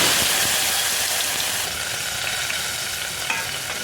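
Chopped onion, chilli and tomato hit hot oil already holding cumin and asafoetida, raising a loud, dense frying hiss that gradually eases while being stirred.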